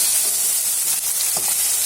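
Paneer curry frying in a pan, a steady close sizzle and hiss with a few faint stirring scrapes, no voices.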